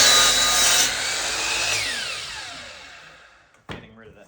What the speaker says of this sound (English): locking my miter saw at 30 degrees and cutting it that first